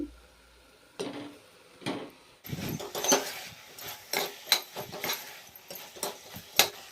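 A spoon stirs fenugreek leaves with tomato and turmeric in a pan, making irregular scraping clinks and soft clatters against the metal, close and quiet between strokes.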